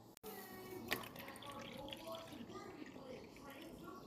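Water being poured into buttermilk in a bowl, a faint continuous trickle and splash, quiet and close, with no talking.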